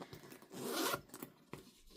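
Zipper pulled along a freshly sewn fabric bag, one long close rasp followed by a few shorter tugs and clicks, quiet and alone with no talk.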